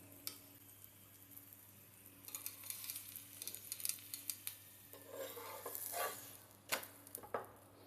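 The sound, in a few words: onion paratha cooking on a pan after flipping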